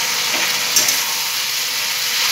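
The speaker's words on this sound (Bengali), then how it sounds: "সয়াবিনগুলো যে ভাজা রয়েছে, যে এতক্ষণ যে ভাজলাম, সেগুলোকে এখন আমি এর মধ্যে ছেড়ে দিলাম" Fried soybeans land in sizzling chili sauce in a hot pan, giving a loud, steady frying hiss that continues evenly with no talk.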